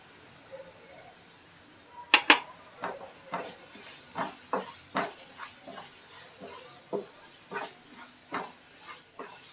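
Thick masala paste for a Maharashtrian fresh cashew curry being stirred in a pan, with a run of clinking spatula scrapes and soft sizzling, fairly close, about a dozen distinct strokes in an uneven rhythm.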